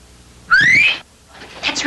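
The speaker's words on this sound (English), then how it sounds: "I'd know his whistle anywhere." A man whistles a short, bright rising note, then a second whistle follows after a brief pause. It is close and loud against a quiet room.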